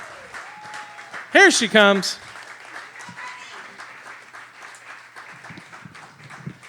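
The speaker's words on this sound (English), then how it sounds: "please give a huge round of applause" A burst of audience applause and cheering rises briefly for performer Evie Rose, lasting about a second before fading back under someone speaking over room noise.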